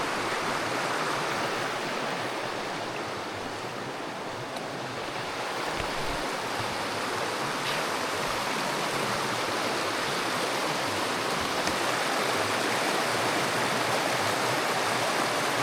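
Water rushes steadily and evenly throughout, a continuous broadband roar of a flowing river in Sweden's Kungsleden mountains, no voices.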